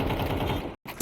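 Rapid automatic gunfire in Counter-Strike 2, a fast dense burst lasting most of a second, a brief silence, then a couple more sharp shots.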